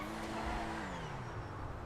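The Progen GP1 sports car engine in GTA Online winds down as it brakes, its pitch dropping steadily beneath a constant road rumble, with a faint tire hiss.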